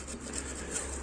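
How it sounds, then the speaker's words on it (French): Steady rasping scrape of a saw blade against the heat exchanger of a De Dietrich Twineo EGC25 condensing gas boiler, continuous and close, with a faint low hum underneath. "Là je le retourne avec une lame de scie en fait."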